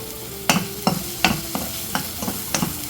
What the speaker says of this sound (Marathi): आता हे वाटण देखील आपण तेलावर चांगलं परतून घेऊया